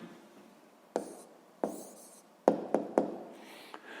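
A pen writing a math answer by hand on paper, a soft scratchy scribble broken into several short strokes and sharp tap-like starts, close and quiet with no talking.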